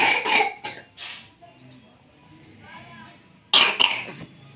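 A young child coughs close by in two short bursts, with a quieter stretch between them.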